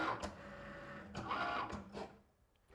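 A Cricut cutting machine slicing out a label, giving a steady mechanical whirring with carriage movement bursts that rise and fall, fairly close and moderately quiet, with no voices.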